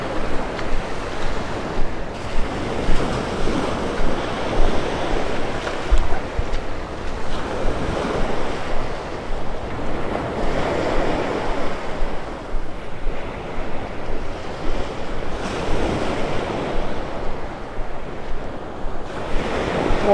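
Ocean waves surge and break continuously on a beach at Marco Island, Florida, loud and close over churned-up water, with wind buffeting throughout and no voices.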